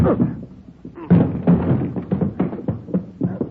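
Heavy thumps of someone hitting a door during a police raid in an old gangster film, several blows landing amid tense shouting and overlapping voices.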